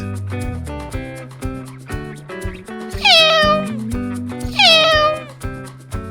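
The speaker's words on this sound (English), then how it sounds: "Cat." Two drawn-out cat meows, loud and close, rising then falling, over a busy musical background.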